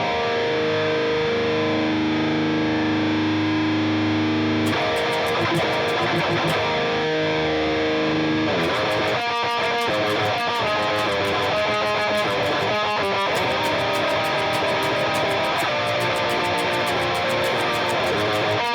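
Heavily distorted metal electric guitar run through a compressor set to about 4:1 with slow attack and fast release, playing sustained chugging chords and tight palm-muted riffs, dense and loud throughout with no pauses.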